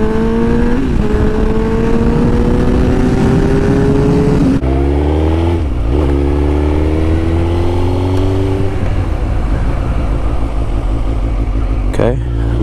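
A 2005 Suzuki GSX-R1000 K5 sport bike ridden on a public road, its engine loud and close as it revs up through the gears with rising and dropping pitch and sharp shifts.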